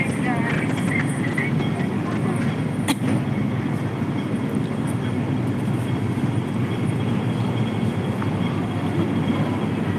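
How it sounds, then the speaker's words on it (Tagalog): Metro train to North Point pulling into a station, a steady close rumble of wheels and carriages under a station announcement and nearby chatter, with a brief sharp clack partway through. "The train to North Point is arriving."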